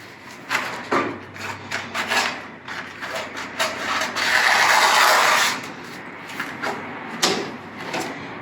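Tape on a stencil is cut off with a blade: close rasping, scraping strokes in uneven bursts, with one longer, louder scrape in the middle and a few sharp clicks.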